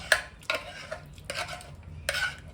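A large spoon stirs and mashes khichdi inside a pressure cooker, making four or five quiet, rhythmic scraping strokes against the metal pot.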